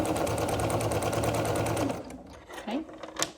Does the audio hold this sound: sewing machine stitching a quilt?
yes